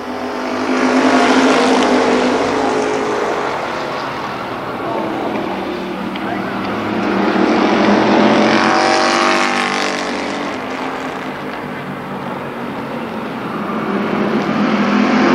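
Race cars roar continuously around the oval at Columbus Motor Speedway during a 1995 main event, the engine drone swelling and fading as the pack passes, loud and close.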